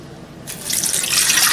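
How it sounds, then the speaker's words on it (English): Lukewarm water poured into the pan of a Hitachi HB-B201 home bread machine, a steady splashing pour that starts abruptly and grows fuller, close and fairly loud with no talk. "Let's add the water."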